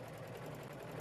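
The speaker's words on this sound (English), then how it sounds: "Lower your presser foot and serge a 4-thread overlock seam." A Husqvarna Huskylock 936 serger stitching a 4-thread overlock seam, giving a fast, even mechanical whir with a rapid rhythmic hum, steady and fairly quiet through a brief burst.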